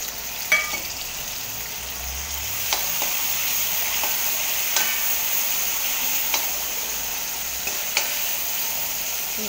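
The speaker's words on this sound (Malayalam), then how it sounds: "ഇനി വെളിച്ചെണ്ണ ചൂടായി കഴിഞ്ഞാൽ നമുക്ക് അതിലേക്ക് അരിഞ്ഞു വെച്ചാൽ ഉള്ളി ഇടാം." Chopped onions sizzling in hot coconut oil in a pan, a steady close frying hiss broken by a few sharp spatula taps, no talking.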